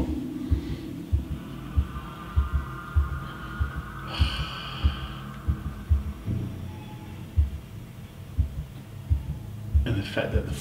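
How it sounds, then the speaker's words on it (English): Footsteps in the horror game P.T. that sound like heartbeats, a steady, low, thudding pulse, with a faint hum and a brief brighter noise partway through. "Footsteps sound like heartbeats."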